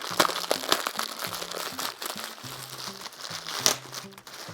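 Paper towels crinkle and crunch in close handling, a continuous run of crisp rustles and sharp crackles with low hum underneath and no talking.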